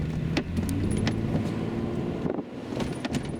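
Porsche Cayenne 3.6 FSI running on LPG during a short test drive: steady engine and road rumble heard from inside the car, with a few faint clicks and rattles and no talking.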